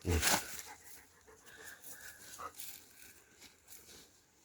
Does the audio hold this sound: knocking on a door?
no